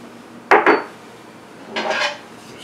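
Yeast being whisked into warm liquid in a cup for a brioche dough, heard as two quick clinking scrapes near the start and a longer rubbing swirl later, close and alone.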